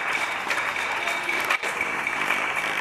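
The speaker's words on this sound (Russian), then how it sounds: "Дети хлопают." Children in Spain clap together in a steady, lively burst of applause that carries on throughout, briefly dipping for a moment partway through.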